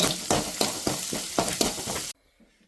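Chopped onions frying in oil over medium heat in a village kitchen, a loud steady sizzle broken by regular stirring scrapes for about two seconds, then cutting off into near silence.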